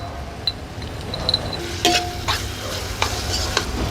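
Crushed garlic, eight cloves, sizzles in hot oil in a pan for a spiny gourd dish while a spoon stirs it, with steady frying hiss and a few scraping clinks against the pan.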